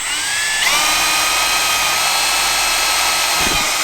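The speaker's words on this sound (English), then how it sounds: "I'm going to see if this drill bit works." A power drill whines steadily and loudly without pause as it bores into wood, its motor pitch jumping up early and then holding.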